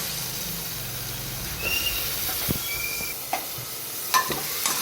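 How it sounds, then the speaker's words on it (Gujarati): Potatoes tipped into a pan of cooked spice masala, stirred and sizzling in the oil, with a soft frying hiss and a few scraping knocks, moderately quiet and with no voices. "હવે આપણે જે ચોરી બટાકા છે તે નાખી દઈએ."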